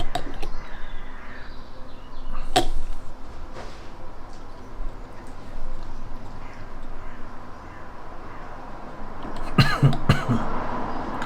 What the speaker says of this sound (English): Still suffering from my cough